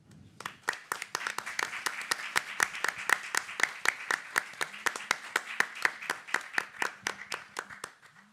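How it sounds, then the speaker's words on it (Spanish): An audience at a talk at Libro Fórum Sevilla 2022 applauds steadily, many hands clapping in a quick, even patter that carries on throughout. "Pediría un aplauso para Margara Trotter"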